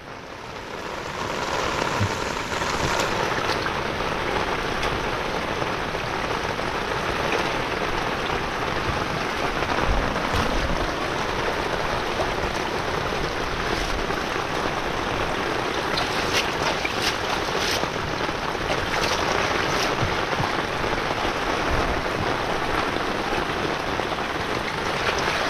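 Heavy rain pours down steadily on a farm with a flooded bitter gourd field, a dense loud roar of drops that continues unbroken throughout with no voices.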